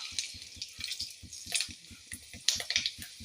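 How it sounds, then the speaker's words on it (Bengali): Dried red chillies and whole spices dropped into hot oil for a tempering, giving rapid close crackles and pops over a soft sizzling hiss, with irregular louder spits. "এবারে এই ফোড়নটা দিয়ে দিচ্ছি।"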